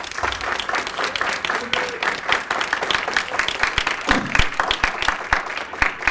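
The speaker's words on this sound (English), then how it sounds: "one more round of applause" An audience claps through a round of applause at a college Black History Month short film discussion, a steady patter of many hands, fairly close and continuous, with some voices mixed in.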